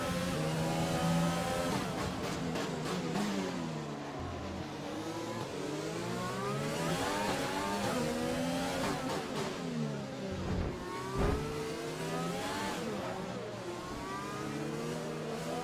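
Several race car engines rev hard and accelerate away together at a race start, a loud continuous roar with rising and shifting pitches throughout.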